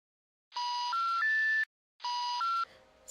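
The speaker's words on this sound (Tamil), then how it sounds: "சரியான நம்பர் தானே டயல் பண்ணேன்." Telephone keypad dialing a number: two short sequences of clear electronic tones, each a few stepped beeps in quick succession, separated by a brief silence, close and clean with nothing else behind them.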